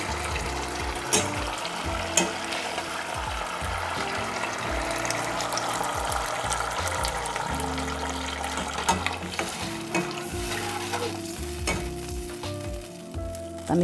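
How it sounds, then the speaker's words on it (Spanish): Tamarind sauce for crispy chicken fillets bubbling and sizzling in a pan at a rapid boil, a steady dense hiss with small pops and occasional utensil knocks, close and continuous without talk. "que levante el hervor también rapidito, ya está hirviendo"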